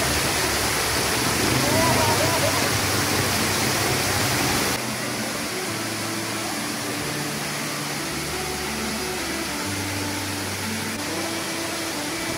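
Tumalog Falls in Oslob, Cebu, a tall, wide waterfall with thin misty water, pours in a steady broadband hiss that stays constant throughout, louder at first and then slightly softer, with faint voices mixed underneath.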